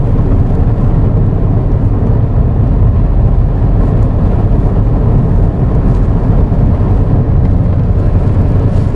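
Steady low road rumble inside a 2007 Acura TSX cruising at 55 mph with a wheel vibration, a loud continuous drone without pauses.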